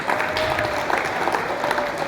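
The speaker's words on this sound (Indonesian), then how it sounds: "Tepuk tangan untuk beliau." Applause from an audience at a session welcoming a new PKS faction member for 2024–2029, a steady patter of clapping lasting about two seconds with some crowd murmur under it.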